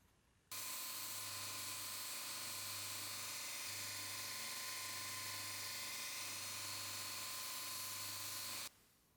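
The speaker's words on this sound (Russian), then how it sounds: "Концы с запасом, поэтому стачиваю их и скругляю." A steel stop pin on a knife being ground down and rounded at the ends, a steady high whining grind with a low motor hum beneath, starting abruptly and cutting off cleanly after several seconds.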